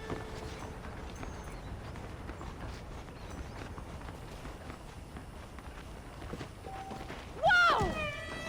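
Horses trot in the video game Red Dead Redemption, with a soft, steady clip-clop under a constant ambient bed and a sudden louder swooping sound near the end.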